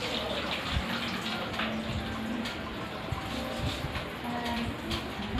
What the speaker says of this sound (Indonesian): kita masukkan air panas di baskom kecil.